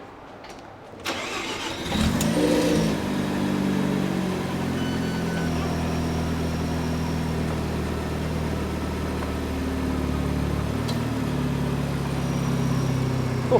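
A 2000 Mazda RX-7 FD3S Type R with its rotary engine is cranked and fires up, catching with a loud burst, then settles into a steady, lumpy idle with a slight rise in revs near the end.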